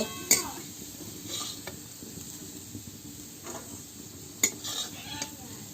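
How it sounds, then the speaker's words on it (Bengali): Fried potatoes scooped out of a hot kadai with a metal spatula, a low oil sizzle underneath and several sharp scraping clinks against the pan, close by. "এবার আলুগুলো তুলে নেব।"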